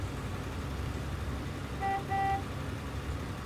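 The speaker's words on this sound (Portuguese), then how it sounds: "Ó, o pessoal buzina, hein?" Car horns in traffic in the 2003 truck-driving game 18 Wheels of Steel: Across America; two short, clear honks sound over a steady low engine and road drone.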